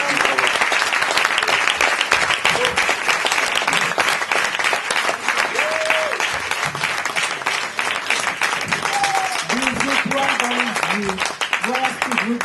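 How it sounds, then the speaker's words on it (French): Audience applause after a magic show, a long, steady burst of crowd clapping, with voices and occasional cheers rising through it toward the end. "On l'applaudit encore bien fort."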